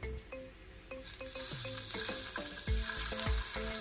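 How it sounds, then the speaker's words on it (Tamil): Marinated fish pieces frying in hot oil give a rising crackling sizzle, with spoon or utensil clinks and scrapes over the steady hiss and no voices. "நம்ம இங்கே மேரினேட் பண்ணி வச்சுருக்கிற ஃபிஷ் பீசஸை ஆயில் ஆட் பண்ணிடலாம்."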